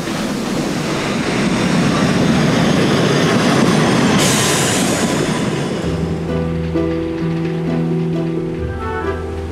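The Rasender Roland train on a German Baltic island rolls steadily along its track, a continuous broadband rumble that shifts toward the end into a lower droning tone as the wagon keeps moving.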